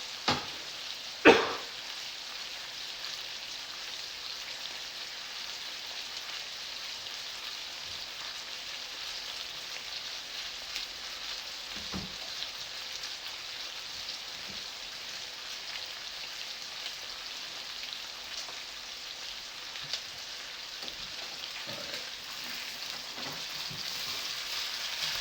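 Pork chops fry in a pan with a steady, close crackling sizzle, broken by a few sharp pops and a faint clink of utensils. No one speaks.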